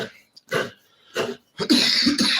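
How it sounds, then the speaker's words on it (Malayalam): A few sharp, close coughs separated by brief pauses, ending in a longer, rougher coughing burst. "സോറി ചുമയൊക്കെ പിടിച്ച്"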